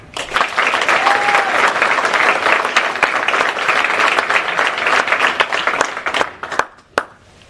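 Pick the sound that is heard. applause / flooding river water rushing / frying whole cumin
applause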